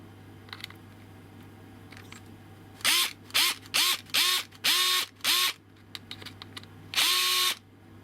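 A Fanttik NEX L1 Pro electric screwdriver whirs in six short, evenly spaced bursts, then one longer run, driving a screw in a plastic RC car, each burst rising quickly in pitch, close and clear over a quiet background.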